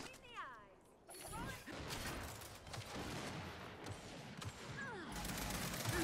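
Gears 5 gunfire, a dense run of rapid shots and crashing impacts lasting several seconds, loud and continuous with brief pauses between volleys.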